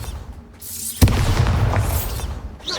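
A Bombarda blasting spell going off in Hogwarts Legacy: a sharp, loud boom strikes about a third of the way in, followed by a dense rumbling wash of debris and magical crackle that carries on to the end.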